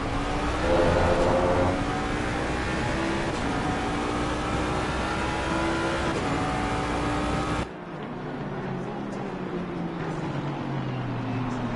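Race cars at Donington Park during a chaotic club race with a Lamborghini in the pack, engines droning loud and steady with rising and falling pitch as cars run close together, then cutting to a quieter, more distant engine tone.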